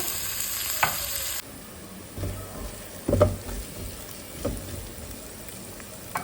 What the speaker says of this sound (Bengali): পেঁয়াজটা একটু হালকা লাল করে ভেজে নেব